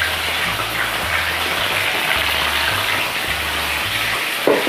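Mushrooms frying in oil for chilli mushroom, a loud, constant sizzle with a low bubbling hum under it that continues the whole time.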